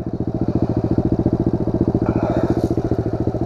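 A Pro Tork TR100F mini dirt bike engine runs close by on a rough trail, its rapid, even putter holding steady at a low idle-like pace, loud and continuous without talk.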